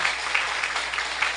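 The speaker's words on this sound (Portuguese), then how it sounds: "Vamos aplaudir o nosso Deus, irmãos." A church congregation applauding together, a dense wash of clapping with a loose rhythmic pulse that holds steady for a brief stretch.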